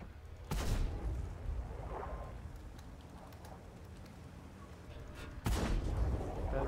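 A T-55 tank fires its cannon twice in a tank video game, each shot a heavy close boom followed by a rumbling decay, with quieter battle noise in between.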